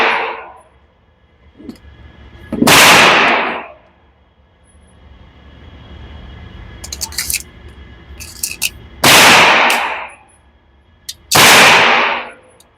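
Pistol shots from an Alpha Foxtrot Romulus at a shooting range, three loud sharp cracks spread apart with quieter clatter and movement between them, no talking.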